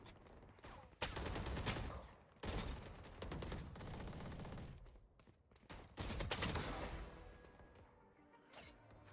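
Rapid bursts of gunfire in a tactical shooter deathmatch as a player strafes while shooting, several sharp, loud volleys separated by brief pauses, with no talk.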